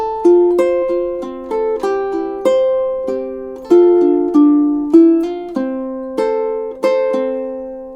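Solo ukulele plays measures 11 to 14 of a song from Spirited Away: a steady run of single picked eighth notes, each pluck bright and close, ringing briefly over a soft low accompaniment.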